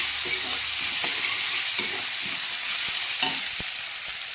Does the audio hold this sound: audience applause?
no